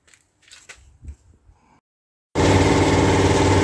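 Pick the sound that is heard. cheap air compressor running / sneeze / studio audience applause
cheap air compressor running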